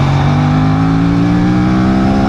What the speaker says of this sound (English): It is able to capture my bike's exhaust note very well.